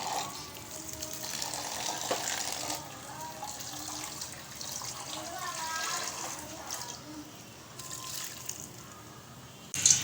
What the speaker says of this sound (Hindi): थोड़ा पानी डाल देंगे।